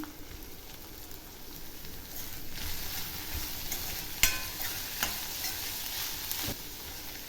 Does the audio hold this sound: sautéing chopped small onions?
yes